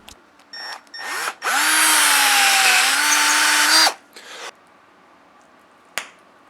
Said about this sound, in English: I'm just going to make 2 holes to allow the shaft and the nut to go in